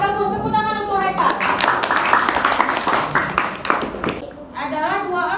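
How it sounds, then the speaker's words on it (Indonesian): A classroom of children applauds a student named Haika with a short burst of brisk clapping in the middle, while a teacher talks before and after it. "Tepuk tangan untuk Haika"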